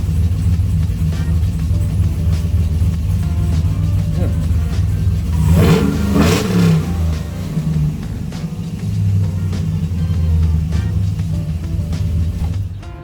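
Chevrolet Trailblazer SS engine running after an ignition switch replacement, a steady close idle rumble with a brief rev midway before settling back to a loud even hum.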